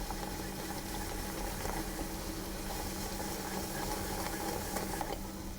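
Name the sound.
caramel mixture cooking on the stove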